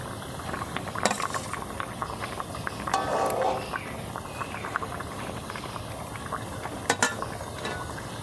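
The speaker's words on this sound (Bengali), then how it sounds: "ঝোলটা এখানে ফুটে গেছে।" Egg omelette curry gravy boiling in a pot, a close, steady crackle of popping bubbles with sharper clicks now and then, continuous throughout.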